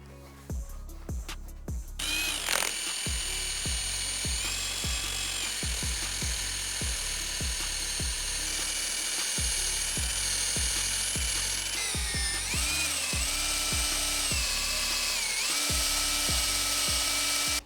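A power drill with a toffee eraser wheel whirs continuously at high speed with rhythmic grinding pulses as it works a Tesla Model 3's body surface, close and loud, no voices.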